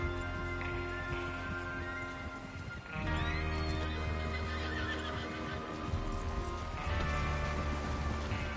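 Horses whinny loudly over a steady clatter of hooves in the video game Red Dead Redemption 2, with a couple of sharp neighs standing out near the start and again later.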